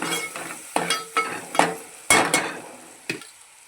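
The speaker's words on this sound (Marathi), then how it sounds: "2 चमचे सांबार मसाला, चांगलं ढवळून घेऊया।" A spoon scrapes and stirs sambar with red chilli and sambar masala in a pot, giving a series of uneven close knocks and scrapes with sizzling between them.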